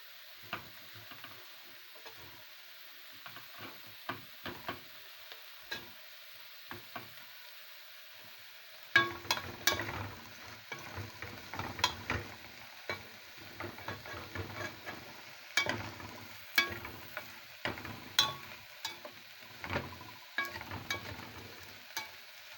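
Shrimp sautéing in a pan with steady sizzling and repeated scraping stir strokes, quieter at first and then louder and busier from about nine seconds, with no voices.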